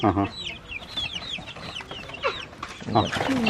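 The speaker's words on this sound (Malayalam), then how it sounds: "ഇതെല്ലാം കോഴി കുഞ്ഞുങ്ങളാണ്." Native chicks about 20 to 25 days old peep in quick high chirps while hens cluck low and steady nearby, a busy overlapping chorus of poultry sounds throughout.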